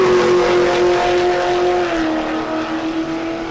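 Drag racing cars at Tulsa Raceway Park, an X-body Pontiac Phoenix and a Corvette, roar loudly with a high sustained engine whine that holds steady and then fades slightly as they run down the strip.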